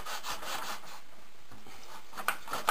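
Balsa wood rubbed on heavy grit sandpaper, a series of quick scratchy strokes close up, fading off midway and followed by a couple of small taps, with no talking.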